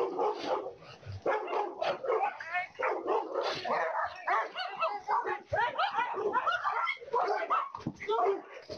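Dogs confront a wild bear outdoors with rapid, excited barking and yipping, some whimpering mixed in, in a near, continuous, overlapping barrage.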